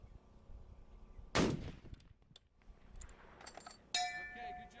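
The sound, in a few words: long-range rifle shot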